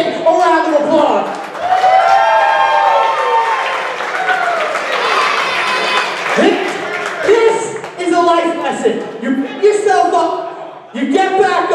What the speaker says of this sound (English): let's give this kid a round of applause.